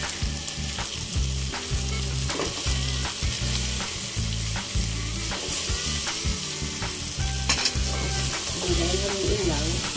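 Chicken frying in a pan with biryani chicken masala, a steady close sizzle with repeated stirring and scraping clatter throughout, no talking.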